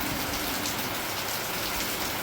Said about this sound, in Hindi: मैं ले रही हूँ बारिश का मज़ा